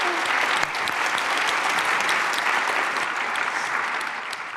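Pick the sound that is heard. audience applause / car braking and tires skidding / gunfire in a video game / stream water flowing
audience applause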